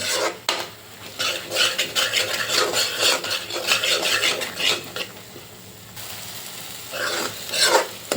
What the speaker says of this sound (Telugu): చాలా జాగ్రత్తగా పచ్చివాసన పోయేదాకా వేయించుకోవాలి